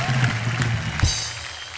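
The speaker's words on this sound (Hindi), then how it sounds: "जोरदार तालियां हो जाए" A studio audience on a celebrity chat show gives a brief burst of steady applause.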